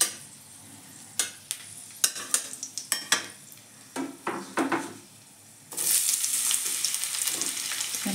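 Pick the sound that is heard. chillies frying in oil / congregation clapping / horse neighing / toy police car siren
chillies frying in oil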